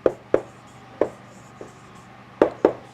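Chalk or marker strokes on a board during a grade 5 maths lesson, about six short sharp taps and scratches spaced irregularly, close and fairly clear over a quiet room.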